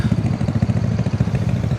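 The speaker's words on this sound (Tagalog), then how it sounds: "Idling lang naman yung kay Melody." A motorcycle engine idles close by, a steady, rapid, low putter with a slight clatter that continues alone without any talk.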